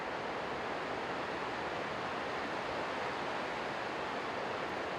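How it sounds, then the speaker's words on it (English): Heavy rain drums on an insulated roof with six inches of foam, a dense, unbroken roar of noise at a steady level from start to finish. "That's how bad it's raining."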